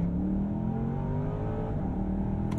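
Bentley Flying Spur V8 launching hard in sport mode, a loud sustained engine roar with rising revs heard from inside the car, steady and continuous throughout with no voices.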